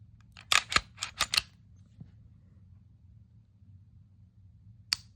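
An aftermarket Vex trigger in a Glock 45 pistol clicks through break and reset: about five sharp, close mechanical clicks in quick succession, then a faint lone click and one more crisp click after a pause, over a quiet low hum with no talking.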